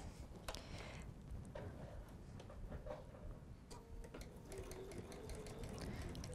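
Sewing machine stitching a quarter-inch seam on a quilt-as-you-go tree skirt, a faint, steady mechanical ticking hum running throughout, with occasional soft clicks and a quiet voice in the background.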